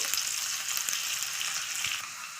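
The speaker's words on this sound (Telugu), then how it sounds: "కొంచెం జీలకర్ర ఒక నాలుగు ఎండుమిర్చి అలాగే సన్నగా కట్ చేసుకున్న ఉల్లిపాయలు ఇట్లా చక్కగా ఈ తాలింపు అనేది చక్కగా ఫ్రై అవ్వాలి" Cumin seeds, dried red chilies and thinly sliced onions fry in hot oil for a tempering, giving a steady, dense sizzle close by with faint stirring, and no voices.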